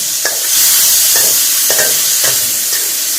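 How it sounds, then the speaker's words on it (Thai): Food stir-fries in hot oil in a pan, giving a loud, continuous sizzle. A spatula scrapes and turns it in a regular rhythm about every half second, and no one speaks. "ก็ผัดลงไปแบบนี้นะคะ ให้มันเหลืองๆหน่อยนึงนะคะ"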